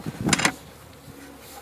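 Honey bees being loaded into an MCG hive make a short burst of buzzing up close in the first half-second, then fade to a faint, steady hum with no talk.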